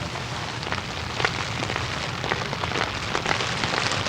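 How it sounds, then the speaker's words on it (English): Heavy rain pours steadily, a dense hiss of drops with scattered louder splats, constant and close. "it's pouring it down with rain"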